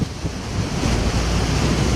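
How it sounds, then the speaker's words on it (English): Strong wind buffets the microphone in a continuous, loud rumbling roar with no voices. "Oh my God, it's windy."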